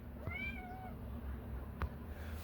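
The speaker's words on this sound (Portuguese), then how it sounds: "o gato já começa aqui a miar" A cat meows a few times indoors, fairly near, with a quieter background hum and a brief knock.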